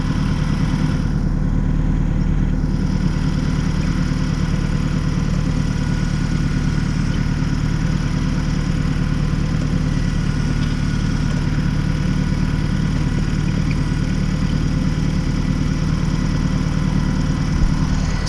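A tractor engine runs steadily while pulling a plastic mulch layer across a field, a loud, constant low drone with no breaks from start to finish.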